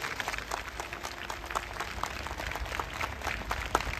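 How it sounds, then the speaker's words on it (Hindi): A church congregation claps together for the Lord during a Christian gathering, a steady dense wash of applause at a moderate distance, with faint talk underneath. "आइए प्रभु के लिए एक अच्छी ताली बजाएं"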